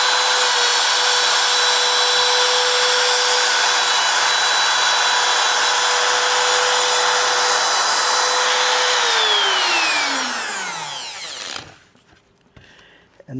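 A Bosch Colt router fitted with a plunge base runs at a loud, steady high-pitched whine, then is switched off and spins down with a falling pitch into near silence.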